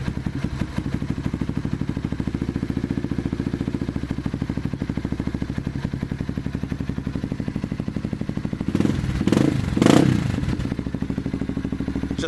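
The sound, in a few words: Yamaha TTR 230 dirt bike engine idling while warming up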